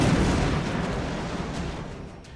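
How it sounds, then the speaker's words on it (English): A sectopod in the video game XCOM: Enemy Unknown unleashes an area barrage, a loud, dense roll of explosive blasts that rumbles on steadily for a couple of seconds, tapering slightly toward the end. "the sectopod cut loose with a barrage that affected a whole area"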